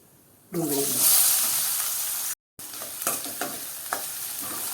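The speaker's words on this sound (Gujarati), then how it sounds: "ડુંગળીને આપણે થોડી સાંતળી લઈએ" Chopped onion sautéing in hot oil with mustard seeds, cumin and asafoetida for a pointed gourd curry, a steady close sizzle broken by a brief dropout, then light stirring scrapes over the continuing hiss.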